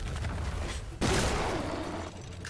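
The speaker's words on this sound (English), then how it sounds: "I am using up all my shotgun ammo on you." A shotgun blasts in Shadow Warrior: one loud, close, sudden boom cuts through steady combat noise and rings out for about a second before dropping back to the busy background.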